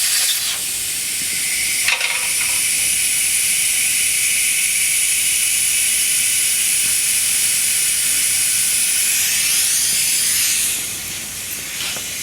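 Air rushes steadily out of a tire and wheel assembly on a Hunter TC3250 tire changer once the valve core is pulled, a loud, continuous, close hiss lasting many seconds before easing off slightly near the end.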